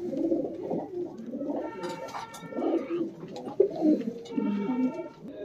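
Several Punjabi Malwai pigeons cooing nearby, overlapping low throaty coos in a steady rolling chorus, with a few faint chirps and a soft thump.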